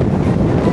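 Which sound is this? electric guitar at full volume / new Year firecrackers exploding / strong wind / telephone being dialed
strong wind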